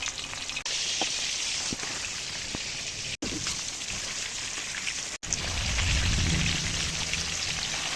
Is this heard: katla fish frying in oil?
yes